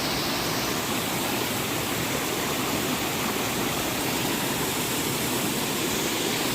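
Ajodhya Bamni waterfall rushes in a dense, steady roar of falling water, loud and close, unbroken from start to finish, with no voices.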